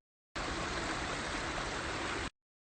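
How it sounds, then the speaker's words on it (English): Steady rushing of a stream, a dense watery hiss and gurgle that starts abruptly and runs unbroken for about two seconds, with no voices. "You can hear so much water."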